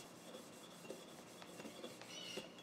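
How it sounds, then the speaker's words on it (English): A copper pot scrubber rubs against metal during scope base work on a .375 H&H Magnum rifle build, making faint, soft, repeated scraping strokes in a quiet room. "This is a copper pot scrubber."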